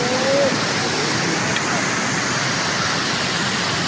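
The Parvati waterfall in Himachal gives off a loud, constant rushing roar of falling water that fills the whole stretch, nearby and unbroken.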